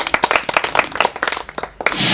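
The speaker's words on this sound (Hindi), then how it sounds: "एक बार जोरदार ताली" An audience claps in a loud, quick, uneven round of applause at a Maithili folk dance performance, the sharp hand claps close and crisp before the sound shifts to a brighter wash at the end.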